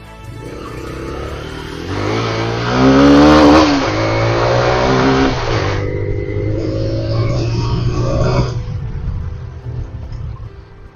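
A motorbike cruises through the lanes of Karimnagar city, its engine loud and close, rising in pitch as it accelerates, then settling into a steady drone before easing off.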